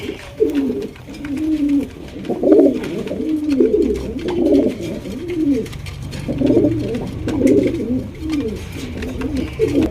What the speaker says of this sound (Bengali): দেখেন ফুল অ্যাক্টিভ কবুতর